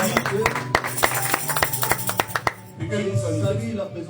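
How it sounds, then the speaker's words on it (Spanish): Church congregation at a Sunday service clapping, a dense run of sharp hand claps over about two and a half seconds, then the clapping stops and a voice speaks. "Applaus für den Herrn Jesus."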